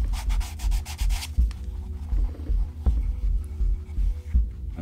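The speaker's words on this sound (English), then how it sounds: "sandpaper it to make it smooth" Sandpaper rubbed by hand over a small wooden piece, a steady scratchy back-and-forth sanding with rhythmic strokes, close and fairly loud, with a low throbbing undertone and no talk.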